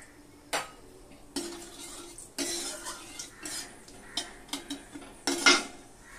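Cumin and dried red chili dropped into hot oil for a vegetarian soybean dish, giving bursts of sizzling with clinks of a utensil against the pan as it is stirred, close and intermittent.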